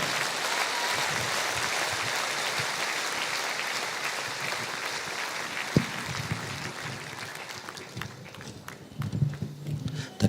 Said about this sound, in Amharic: ጭብጨባው ግን አንሷል